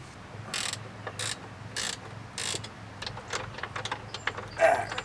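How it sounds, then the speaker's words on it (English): Wrench ratcheting a nut off a crash bar bolt on a 2008 Suzuki V-Strom 1000 motorcycle, several close clicking bursts followed by lighter scattered clicks and handling noise. "I have a wrench on the bolt over here, holding it in place so when I undo the nut on the other side"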